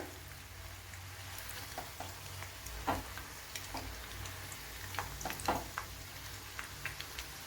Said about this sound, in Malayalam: നമ്മുടെ സ്നാക്സ് ഇവിടെ കിടന്ന് വെന്തുകൊണ്ടിരിക്കുകയാണ്